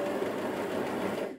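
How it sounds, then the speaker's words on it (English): Domestic sewing machine running a narrow zigzag stitch, a continuous close mechanical whir that ends abruptly as the machine stops. "let's have a look at the zigzag on this machine"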